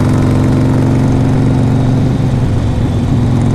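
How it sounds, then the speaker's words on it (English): A 2014 Harley-Davidson Forty-Eight motorcycle engine drones loud and close during a ride, a steady low throbbing rumble with constant wind roar and no break in level. "I'm driving a 2014 Harley Davidson 48."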